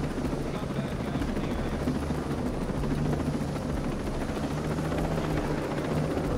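Helicopter in the video game Ghost Recon Breakpoint flying in to land on a helipad: a steady, loud rotor roar with rhythmic blade chop and low engine drone, continuous and close throughout, with no talk over it.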